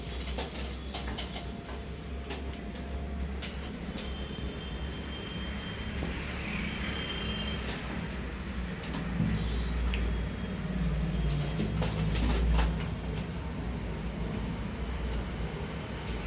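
Pigeons coo inside a pigeon house, with soft, low murmuring calls repeating over a steady background hum, plus scattered faint clicks and rustles.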